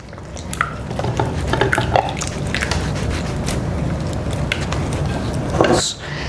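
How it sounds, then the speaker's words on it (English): Milk chocolate ganache for a Dubai chocolate cake stirred in a pot until melted, a continuous wet squishing and scraping with light clinks close by, no talking. "I will give this a good stir until everything is fully melted."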